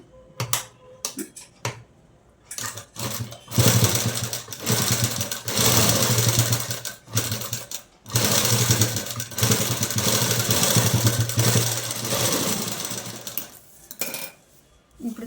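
Sewing machine stitching a folded saree dupatta, running in several bursts of rapid mechanical clatter that start and stop across the span, close and fairly loud with no talk.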